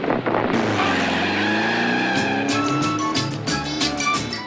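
Modified Volkswagen Herbie car fitted with a Porsche engine takes off fast, a loud, close engine roar climbing in pitch as the tires squeal and skid, sustained throughout without any talk.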